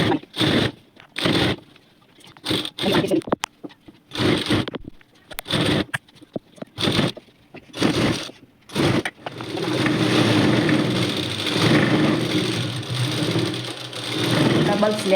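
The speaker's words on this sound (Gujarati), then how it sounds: "ડબલ સિલાઈ કરી લેવી।" A sewing machine stitches a salwar seam in one steady, continuous run of mechanical whirring after a stretch of short stop-start bursts mixed with talking.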